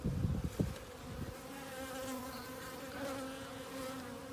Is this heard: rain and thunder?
no